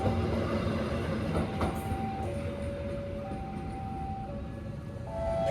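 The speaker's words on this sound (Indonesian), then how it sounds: "Ini kayaknya langsiran lokomotif kereta tambahan tadi ya teman-teman." A locomotive from an extra train shunting near a level crossing, with its engine rumbling steadily and close by and sustained horn-like tones shifting in pitch over it.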